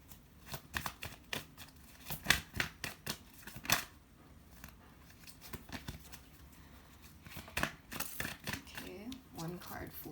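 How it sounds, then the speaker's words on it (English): Tarot cards shuffled by hand close up, a quick, irregular run of crisp riffling and slapping bursts that comes and goes, with no talking over it. "Okay, so let me just shuffle."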